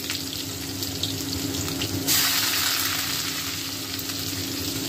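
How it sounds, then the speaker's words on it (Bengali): Onion and garlic hitting hot oil in a pan on the stove: a loud, close crackling sizzle that swells suddenly about halfway through, then settles into a steady frying hiss. "প্রথমে পেঁয়াজ রসুন দিয়ে দিচ্ছি"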